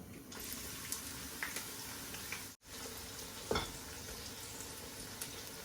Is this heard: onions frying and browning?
yes